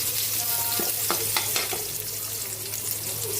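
Onion sautéing in a hot pan beside lettuce for a Filipino pork dish, a loud, continuous sizzle with a few quick spatula scrapes early on, close up, with no voices.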